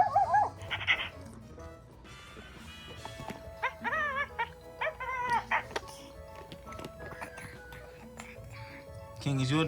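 Close, high-pitched puppy whimpers and yippy barks come in scattered bursts over several seconds, mixed with household background noise and voices.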